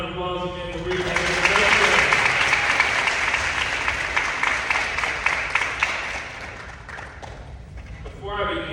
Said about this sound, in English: Can everybody give this young man a round of applause again for reading that?